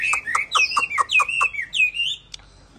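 A Chinese hwamei songbird sings close and loud, a run of quick, rhythmic whistled notes repeated in a bright phrase before ending with a short chirp.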